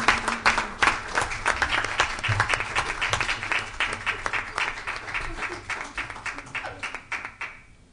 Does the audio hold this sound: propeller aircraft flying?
no